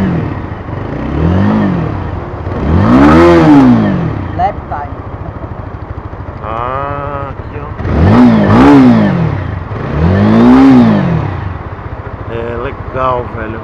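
A Dafra Apache RTR 200 motorcycle engine idles and is revved up several times, rising and falling in surges, with voices talking faintly over it.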